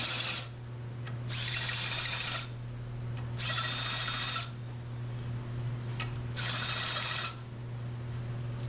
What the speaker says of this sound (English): Chucking it in a drill and it'll get rid of those burrs on each hole on both sides.